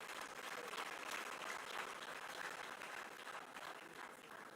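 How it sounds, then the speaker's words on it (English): Applause from a large audience at an executive dinner ball in Ghana, a thick continuous roar of clapping from a full room, steady throughout with a crowd murmur beneath. "Give him a big hand of applause."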